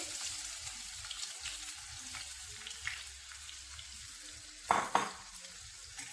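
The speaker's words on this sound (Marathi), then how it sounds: "याला गोल्डन होईपर्यंत थोडंसं परतून घेऊया।" Finely chopped onions sautéing in a pan with cumin until golden, a quiet steady sizzle with light stirring scrapes and two louder spoon-against-pan clatters near the end.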